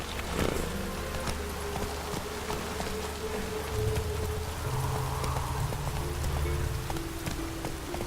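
Roach, the horse in The Witcher 3, gallops with a steady clip-clop of hooves under a continuous rumbling wash of rain or ambient game sound, close and evenly loud throughout.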